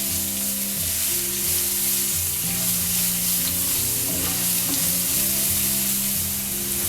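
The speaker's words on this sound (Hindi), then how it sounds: "अब इसमें हम 1 छोटा प्याज कटा हुआ डालेंगे।" Chopped onion fries in a pan with browned cumin seeds for a green pea samosa filling, giving a steady, close sizzle with light stirring sounds.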